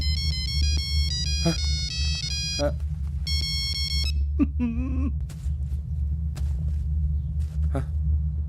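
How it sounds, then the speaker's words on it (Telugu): A mobile phone ringtone plays as a tonal electronic melody in bursts for about four seconds, then scattered short chirps over a low rumble, with a few voice-like sounds mixed in. "ring tone sir"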